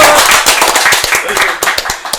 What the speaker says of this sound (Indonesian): Dan hari ini kita kasih tepuk tangan dulu dong